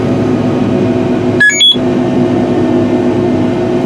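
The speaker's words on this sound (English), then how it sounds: "that beep means that we've reached the headland" Two short electronic headland alert beeps sound over a steady engine drone inside a Challenger tractor cab while planting corn, with no talking.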